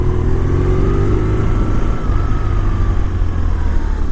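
Steady, close engine drone from a BMW R1150RT motorcycle cruising on a smooth, newly paved road, with constant wind rush and a slight shift in engine pitch midway.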